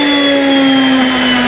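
Electric grain mill grinding grain in a home kitchen, a loud steady motor whine with a strong constant hum that runs unbroken throughout without talk.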